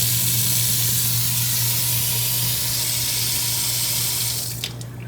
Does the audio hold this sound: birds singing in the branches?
no